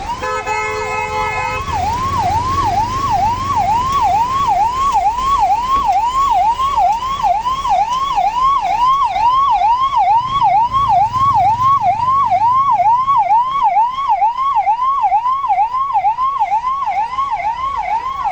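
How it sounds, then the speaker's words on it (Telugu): A 108 ambulance siren wails steadily and loudly in a highway traffic jam near a toll plaza, its rising-and-falling cycle repeating rapidly and continuously for the whole stretch over low traffic rumble. "108 అంబులెన్స్ వాహనం ట్రాఫిక్ లోనే ఇరుక్కుపోయి గంటల తరబడి వేచి చూడవలసి వచ్చింది."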